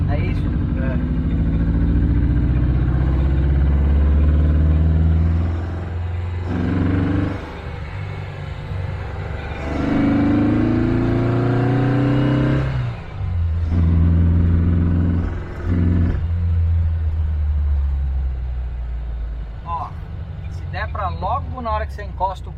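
A 1957 carbureted car engine revs up and settles repeatedly as the pedal is pressed, loud, close rumbling swells and idles, with people talking over it.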